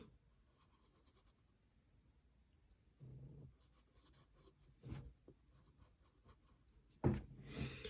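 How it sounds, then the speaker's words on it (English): A pencil moves on paper, drawing eyebrows in short, quiet scratchy strokes with pauses between them, close and faint, followed by a louder rub or shuffle at the end. "to finish off her face, we gotta draw like her eyebrows"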